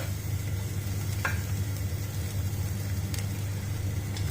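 Ginger and garlic frying in a pan with caramelized golden onions, giving a steady close sizzle with a low hum underneath and a few faint stirring scrapes.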